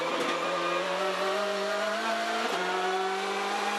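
A WTCC touring race car on the Porto street circuit holds a loud, sustained engine note at full throttle. The pitch climbs steadily, with one quick dip and recovery as it shifts gear, and there is no talk.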